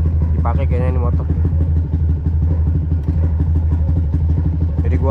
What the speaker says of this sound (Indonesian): Kita panasin dulu motornya, soalnya nggak pernah dipakai kayaknya ini motor.